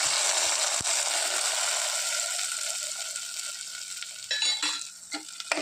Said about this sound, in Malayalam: നന്നായിട്ടൊന്ന് ഇളക്കി യോജിപ്പിക്കുക.